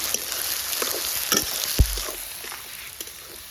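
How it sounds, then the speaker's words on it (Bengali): Whole garam masala spatters in very hot oil, a continuous sizzle broken by sharp pops and a stirring clatter, with no talking. "তেলটা অতিরিক্ত গরম হয়ে গেছে তো তুমি দেওয়ার সঙ্গে সঙ্গে ছিটে এসছে"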